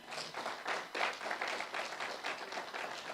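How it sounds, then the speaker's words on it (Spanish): A church congregation claps in bursts of applause, moderately close and fairly soft, rising and falling over a few seconds with no talking. "Dale un aplauso al Señor, amén."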